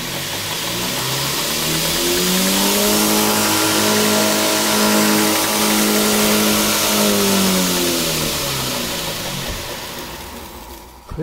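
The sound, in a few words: DIY 2x72 inch 2 HP belt grinder with VFD running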